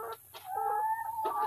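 Lohmann Brown chickens in a backyard coop cluck close by, a few short clucks followed by a longer drawn-out tonal call, with no talk over them.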